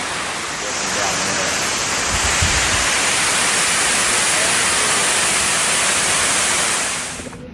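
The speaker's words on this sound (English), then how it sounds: "Look at the size of that waterfall." A large waterfall on Maui in Hawaii roars as a loud, steady broadband rush that holds constant for several seconds before fading at the end.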